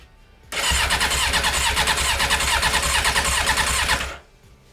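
A run-down Yamaha XJ 600 motorcycle with its choke on cranks loudly and rhythmically for about three and a half seconds, close by, then stops without catching; no one talks.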